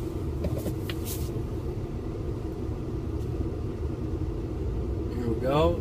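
A 2014 Jeep Cherokee 4x4 in sand and mud mode rumbles as it starts driving in snow, a steady low engine drone close by, with a rising whine near the end.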